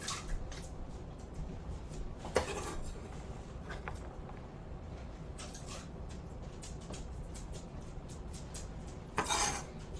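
Food dropped into a cooking pot for a vegan minestrone soup: a few distinct clatters and wet plops against the pot over a low kitchen hum, with the loudest knocks near the start and the end.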